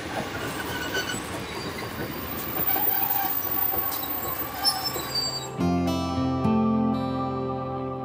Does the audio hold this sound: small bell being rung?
no